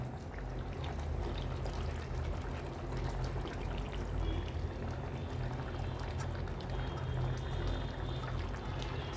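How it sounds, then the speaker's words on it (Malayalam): Coconut milk poured into a pot of cooked mutton curry in a Kerala-style kitchen, a steady, continuous liquid pour with a low simmering bubble underneath, close and even throughout with no talking. "നന്നായി വെന്ത മട്ടനിലേക്ക് നമുക്ക് തേങ്ങാപ്പാൽ ഒഴിച്ചു കൊടുക്കാം"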